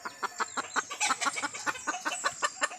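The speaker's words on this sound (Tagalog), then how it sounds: "Ito nga pala yung broodhen." A brood hen clucks in a rapid, steady series of short, close clucks, with busy farmyard noise around.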